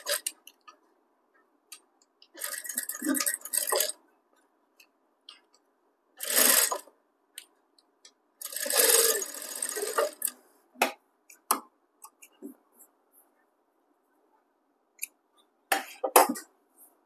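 A sewing machine stitches a dart on a blouse in several short bursts of rapid mechanical whirring, separated by quiet pauses with scattered small clicks and handling noises.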